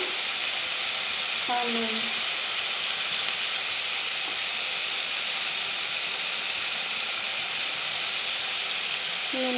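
Ridge gourd fries in a pan with a steady, bright sizzling hiss throughout, occasional stirring clinks, while someone speaks briefly over it.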